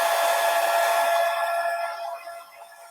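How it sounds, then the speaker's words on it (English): A hairdryer blasts steadily over wet watercolour paint, a loud close airy rush that fades away over a few seconds as it is switched off. "I'm just going to give it a blast with the hairdryer."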